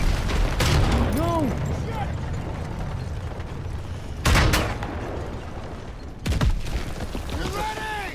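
Gunfire in the video game Call of Duty WWII during the Battle of the Bulge, with loud sharp bursts standing out from a steady battle din and voices shouting in between.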